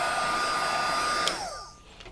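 An embossing heat tool blows a steady, loud whooshing hum over embossing powder on a stencil, then winds down partway through with a falling pitch as it is switched off.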